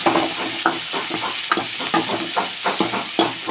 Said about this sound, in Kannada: ಈಗ ನೀರುಳ್ಳಿ ಪಾಡೋಂಗ ಒಂದು ಫ್ರೈ ಆಡು